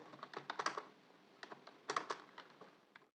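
Rapid bursts of keystrokes on a computer keyboard while C++ code is typed, clattering in short uneven runs with brief pauses between them, close and fairly quiet, with no talking.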